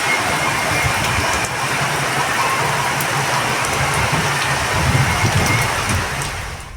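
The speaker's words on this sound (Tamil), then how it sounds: "மதுரை மாநகர் பகுதிகளில் பலத்த காற்று மற்றும் இடி மின்னலோடு இரவு நேரத்தில் கனமழை பெய்தது." Heavy night rainfall with strong wind and thunder over Madurai city, a dense steady downpour hiss close by with low rumbling swells beneath.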